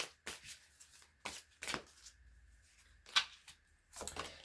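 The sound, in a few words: shuffling tarot cards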